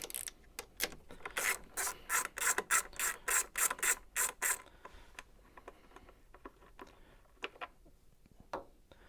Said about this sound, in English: coming with your 1/4 inch ratchet. Loosen this up.